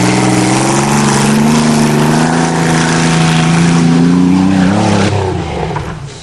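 Chevrolet Lumina Euro 3.1 engine revving hard and steadily on a farm before a jump, a loud close droning roar that holds pitch, then rises slightly and fades away toward the end.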